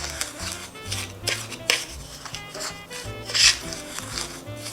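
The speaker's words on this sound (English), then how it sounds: "The almond flour and the sugar has been all stirred well." Almond flour and sugar are stirred together in a bowl for Italian amaretti cookies, giving a close, steady rhythm of scraping and rubbing strokes with light clinks of the utensil against the bowl.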